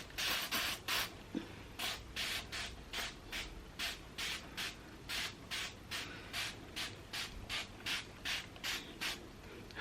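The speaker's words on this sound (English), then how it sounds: "Let's spray a little in my hand." A pump bottle of hydrating leave-in conditioner sprays into a hand in a long run of quick, evenly spaced hissing bursts, each with a faint mechanical click, close and alone.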